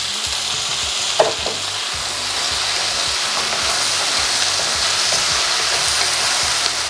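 Beef strips dropped back into a hot pan for a pineapple stir-fry sizzle loudly and continuously, with a brief clatter of stirring early on and a steady frying hiss throughout.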